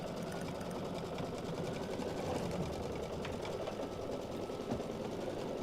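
A Solaris Vision embroidery sewing machine quilting a border, running in a steady rapid mechanical chatter at moderate volume with faint background noise and no clear talk.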